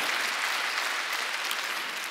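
A church congregation claps together during a Sunday worship service, a dense, steady burst of applause that fills the room, with no talk.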